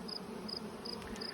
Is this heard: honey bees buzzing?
yes